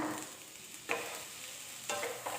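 Brinjal and egg curry with curry leaves being stirred in a pan; a faint steady sizzle with two brief scraping strokes of the spoon, no voices.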